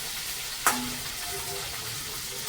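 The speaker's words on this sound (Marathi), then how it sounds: "कढीपत्ता असं परतून घ्यायचं भोपळं" Pumpkin pieces and curry leaves fry in hot oil with a continuous close sizzle, broken early by one sharp clack of a spoon against the pan.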